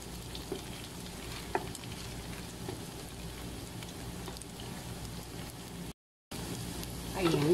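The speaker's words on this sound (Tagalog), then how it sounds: "Para ma-fry natin ng bahagya. Medyo papulahin lang natin yung ating kikiam." Kikiam, a fish-paste snack, sizzling steadily in a pan of hot oil while it is lightly browned for pancit canton, a dense crackling hiss that continues throughout and is broken by one brief silent gap.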